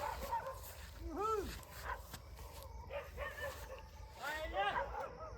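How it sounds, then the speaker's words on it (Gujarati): A dog at night yelps and barks in a village, several whiny, rising cries in short bursts fairly close by, mixed with people talking. "અહીં જો કૂતરો ને કૂતરો રાડ કૂકવા કરી રહ્યો છે"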